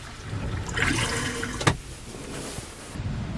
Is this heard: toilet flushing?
yes